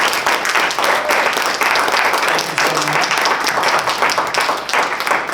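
Loud, sustained applause from a keynote audience at the Seattle AI Film Festival, a thick continuous clatter of many hands, with a voice briefly speaking a short thanks partway through.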